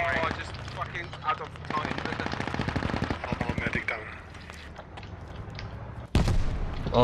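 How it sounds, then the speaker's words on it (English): Gunfire in the squad shooter game Squad: rapid machine-gun bursts crackle steadily through the middle, with scattered single shots and a sharp loud shot near the end, under faint background chatter. "Someone's shooting from 111."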